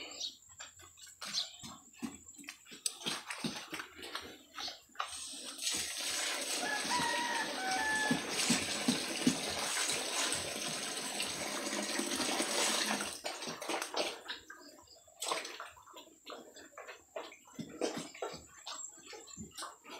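Water poured out for a mother pig: a continuous splashing pour in the middle stretch, framed by faint rustling, knocks and farmyard chicken clucks in the background.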